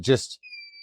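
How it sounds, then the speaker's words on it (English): A short burst of voice gives way to a steady, high electronic auto shut-off alarm tone from a YIHUA 948 II desoldering station that holds evenly to the end. "That's the auto shut off alarm."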